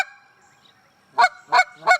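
A Hayes goose call is blown in three sharp, loud honks, evenly spaced and close, after a fading tonal tail and a quiet pause, imitating a goose.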